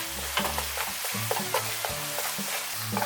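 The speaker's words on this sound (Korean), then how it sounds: "그리고 잘 볶아주시면 돼요." Ramen noodles with grated parmesan cheese being stir-fried in a pan for a spinach pasta, giving a steady close sizzle with repeated scraping and stirring strokes and no talk.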